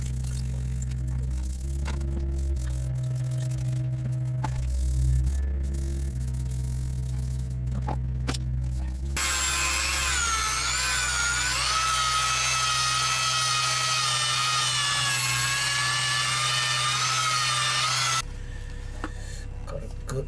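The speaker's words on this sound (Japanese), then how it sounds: "軽くペーパー当ててサクッと磨いておしまいにしたいと思います。" A repaired plastic step skirt from a 2017 Super Great truck is sanded with sandpaper: a loud, continuous abrasive rasp runs for about nine seconds over a steady low background hum.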